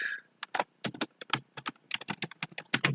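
Rapid, uneven keystrokes on a computer keyboard while Arduino code for an NTP time server is typed, a close, steady run of clicks with no talking.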